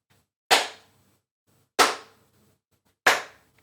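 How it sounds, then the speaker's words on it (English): Three sharp hand claps ring out alone, evenly spaced about a second apart, each crisp and close with a short decay into silence. "give yourself a short round of applause"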